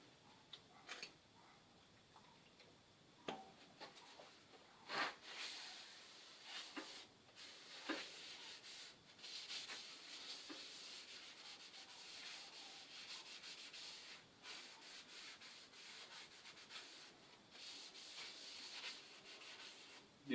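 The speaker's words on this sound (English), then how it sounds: "I will soak the wood well now with the oil" Oil finish being rubbed into a natural-edged winged olive wood bowl, giving faint, close, continuous rubbing and wiping strokes with occasional light taps.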